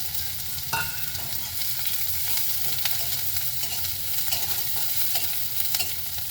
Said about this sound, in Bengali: পেঁয়াজ দিলাম, এতে কিন্তু আমি পেঁয়াজগুলো খুব বেশি একদম লাল লাল করবো না, ওর মধ্যে ভাজবো